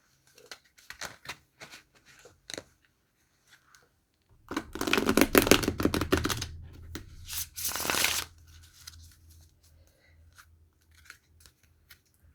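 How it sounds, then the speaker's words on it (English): A deck of tarot cards shuffled briskly for a few seconds, a dense riffling burst, with soft taps and handling noises before and after. "I'm going to shuffle these."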